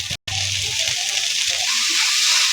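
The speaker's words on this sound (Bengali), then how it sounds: "সর্ষের তেল দিয়ে দিলাম, রসুন, পেঁয়াজ, কাঁচা লঙ্কা দিয়ে লাল করে ভেজে নিলাম।" Garlic, onion and green chilli fry in hot mustard oil, a steady loud sizzle that continues throughout after a brief cut near the start.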